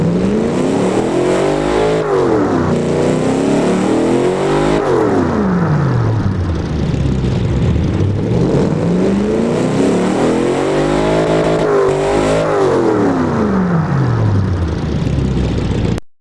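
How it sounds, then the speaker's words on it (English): Americanized V8 crate engine in the Automation/BeamNG racing game, revving loudly and continuously with rising and falling pitch sweeps as it climbs and drops through the rev range, close and unaccompanied. "let's get a hear of what this Americanized V8 engine sounds like right about now."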